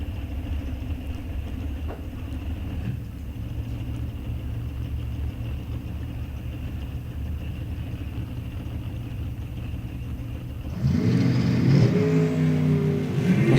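At a drag strip, racing cars including a Corvette Roadster launch, with a low, distant engine rumble that swells into a loud, roaring surge near the end.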